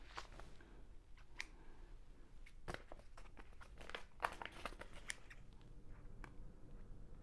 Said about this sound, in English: so that I can open this package